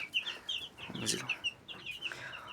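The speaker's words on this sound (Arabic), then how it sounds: "كلهم فيومي. ودوت ديك فيومي كبير اهو." Fayoumi hens, chicks and a large rooster on a rooftop, giving soft, repeated clucks and peeps in an uneven rhythm at close range, with faint background noise.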